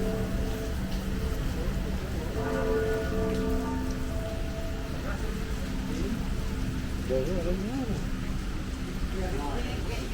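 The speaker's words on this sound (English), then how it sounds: "it immediately started raining very heavily, very quickly as well" Heavy rain pouring at an outdoor festival in Nathan Phillips Square, a dense constant hiss of drops on surfaces throughout, with people talking in the background beneath it.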